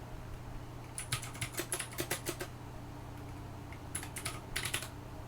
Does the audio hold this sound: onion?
no